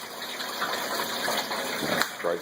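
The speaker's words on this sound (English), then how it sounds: "filling up my hot liquor tank" Steady gushing water pouring into a homebrewing hot liquor tank, filling with mash or sparge water, a constant close rush with a faint hum underneath.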